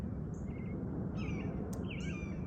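Birds chirp and call outdoors in short bright bursts, a few clear tweets over a steady low background hum, fairly close and alone without speech.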